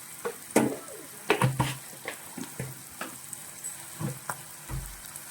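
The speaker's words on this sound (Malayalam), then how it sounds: "നമുക്കിതിലേക്ക് മുളക് പൊടി ചേർത്ത് കൊടുക്കാം" Chilli powder fries in hot oil in a pan for an anchovy fish pickle, with soft sizzling and scattered scrapes and knocks of a spoon stirring, close and moderate.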